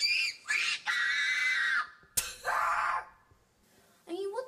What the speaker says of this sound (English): I like how he's just screaming for a while and then all of a sudden just explodes out